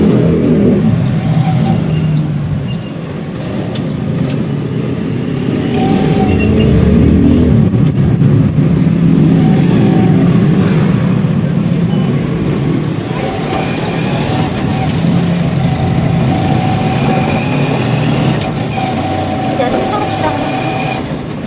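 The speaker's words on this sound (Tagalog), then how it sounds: "Sakay po kami ng tricycle." A tricycle engine hums and revs steadily while riding, loud and continuous throughout, with voices talking over it.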